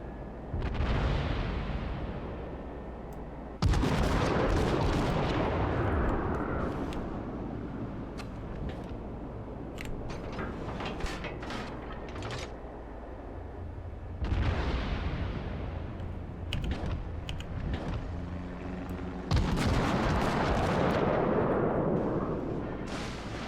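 Heavy naval gunfire from warships in World of Warships, large booming salvos striking at intervals with long rumbling decay, loud and close, no talk.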